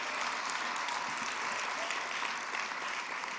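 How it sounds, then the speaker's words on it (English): Audience at a craft beer competition awards ceremony claps steadily throughout, a dense, even wash of applause from a crowd with no break. "Round of applause for those guys."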